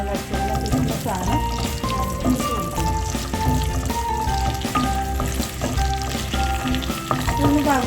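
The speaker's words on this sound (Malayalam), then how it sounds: "ഇതിലേക്ക് നമുക്ക് ഈ കിസ്മിസും അണ്ടിപ്പരിപ്പും വറക്കണം." Raisins and cashews frying in hot ghee, a steady loud sizzle with a stirring spoon scraping now and then, continuous throughout while making rava milk halwa.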